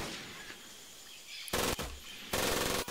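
Automatic weapon fire from the video game Medal of Honor: Pacific Assault comes in two loud, sharp bursts after a quiet stretch of faint background ambience.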